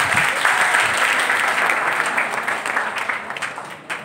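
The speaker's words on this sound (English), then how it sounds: "Stuti Madam and the Cultural Committee, a round of applause for them." A college Teacher's Day audience claps for the cultural committee, a full round of applause that starts strong and gradually tapers off.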